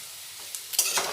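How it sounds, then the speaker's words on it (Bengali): Potatoes frying in a pan for a Bengali shrimp dish give off a steady close sizzle, with a brief stir and scrape near the end. "লাল করে দিয়ে আলুগুলো লাল করে ভেজে নেব।"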